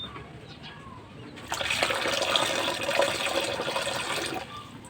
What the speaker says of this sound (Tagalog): Busan natin ng konti ng tubig.